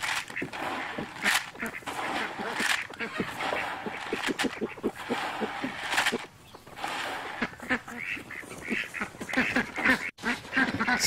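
Ducks quack in a busy, overlapping chorus while being fed grain on a farm, with calls close by and continuous over several seconds and a few faint voices underneath.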